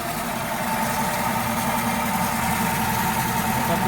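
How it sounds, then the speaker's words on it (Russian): A Toyota Noah with about 124,800 km and a worn bearing idles close by, giving a loud, steady rumbling roar with a harsh mechanical grind that holds constant throughout. "Заводим машину. Вот такой грохот."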